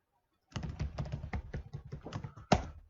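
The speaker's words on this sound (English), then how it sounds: "So just type my user ID here and the credentials." A computer keyboard typed on to enter a user ID, a fast, irregular run of close, crisp key clicks that starts after a brief silence and ends with a louder key strike.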